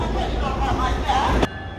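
A Brightline passenger train pulls out of the West Palm Beach station heading on toward Miami, a steady loud rumble and rolling wheel noise that cuts off abruptly near the end.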